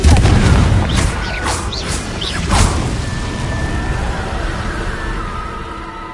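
A Confringo spell explodes in the video game Hogwarts Legacy, with a heavy rumbling boom up front followed by a few sharper whooshing bursts and a lingering low roar.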